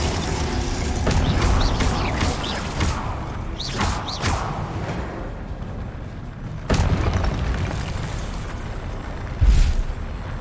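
A spell cast in the video game Hogwarts Legacy, with loud booming, whooshing bursts and impacts over a dense, continuous game soundscape, with peaks around the middle and near the end.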